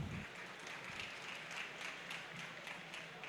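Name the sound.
audience applause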